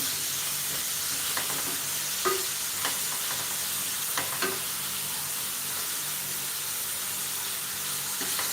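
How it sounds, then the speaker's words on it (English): Green beans and carrots sizzling in a pan while being stirred, a steady close hiss of frying with occasional scraping and clicking of the utensil against the pan. "So keep stirring your green beans."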